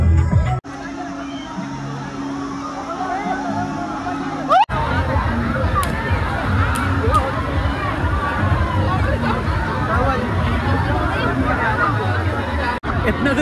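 Dense crowd hubbub at a busy water park in Rajgir, with many overlapping voices and faint splashing blending into a steady, loud wash of chatter for the whole stretch.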